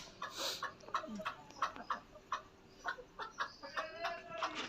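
A desi hen clucks repeatedly in short, rhythmic bursts on a house rooftop, fairly close, with faint background noise and no talking.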